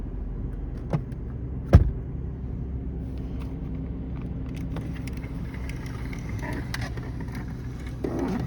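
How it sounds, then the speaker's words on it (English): A car pulling into a Toyota dealership lot on a foggy morning: a low, steady engine rumble with one sharp thump early on and faint scattered higher sounds later. "there's another car that just pulled in."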